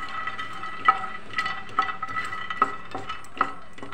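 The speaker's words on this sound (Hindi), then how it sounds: "कुछ गिरी हमने बादाम की ली हैं, इसे भी इसी में डाल के रोस्ट करेंगे।" Almond kernels and roasted fox nuts are stirred in a pan with a metal spoon, producing close, light scraping and rattling with regular sharp clinks of the spoon against the pan, fairly quiet and without talk.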